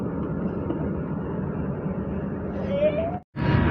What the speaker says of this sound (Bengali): ট্রেন ছেড়ে দিয়েছে আমাদের, আমরা এখন ঢাকার উদ্দেশ্যে রওনা দিচ্ছি।